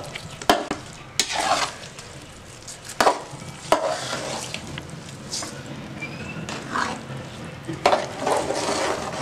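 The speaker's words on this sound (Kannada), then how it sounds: "ಇದನ್ನ ಈಗ ಕಂಪ್ಲೀಟ್ ಆಗಿ ಕ್ಲೀನ್ಗೆ ಮಿಕ್ಸ್ ಮಾಡ್ಕೊಡ್ಬೇಕು" Tempered mango chutney is stirred in a pan, with a spoon scraping and clattering in irregular strokes over a soft background sizzle, heard close up.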